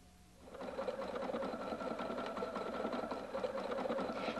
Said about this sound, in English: Sew one diamond stitch pattern evenly over the quilt top to tie the quilt.